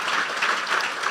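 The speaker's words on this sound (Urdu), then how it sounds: "تو پھر بجا دیں یسوع کے لیے تالیاں" A church congregation claps for Jesus during a Pentecostal preaching service, with thick, continuous hand-clapping filling the room at close range throughout the short burst.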